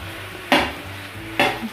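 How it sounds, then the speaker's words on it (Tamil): Mushrooms are stirred into onion masala in a hot frying pan, two short scraping strokes of a spoon against the pan over a soft background sizzle, close and fairly quiet. "மஷ்ரூம் ஆட் பண்ணி விட்டுட்டு நல்லா இந்த வெங்காயத்தை மசாலாவோட நல்லா மிக்ஸ் பண்ணி விட்டுக்கலாம்"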